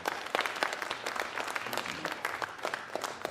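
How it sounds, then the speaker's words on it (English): An audience applauds at a spoken word event, brisk clapping from a modest crowd close by, steady and lively for a few seconds. "Please give a round of applause for Gibson."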